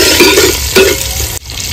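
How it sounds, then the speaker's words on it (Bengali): Chopped onions hit hot oil for a mutton curry, producing a loud, close, continuous sizzle with brief stirring scrapes, cut off abruptly near the end. "এবারে তেলের উপরে দিয়ে দেবো পেঁয়াজ কুচি, পেঁয়াজটা একটু ভেজে নেবো ভালো করে।"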